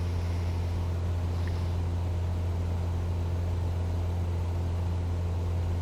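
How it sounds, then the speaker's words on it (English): A Cessna Titan twin-engine aircraft in Microsoft Flight Simulator 2024 holds a steady, loud engine drone with a strong low hum throughout, unbroken and without talk. "for the medium cargo business is a Cessna Titan twin engine."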